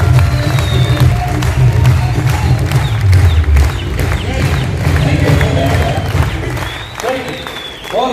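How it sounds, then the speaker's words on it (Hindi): A large seated audience at a motivational talk claps loudly and continuously, with scattered cheers and voices rising through the dense applause before it thins out near the end. "जोरदार तालियां बजाओ"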